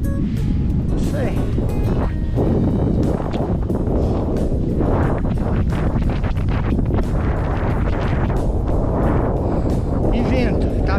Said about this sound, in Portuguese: E vento, tá ventando e frio.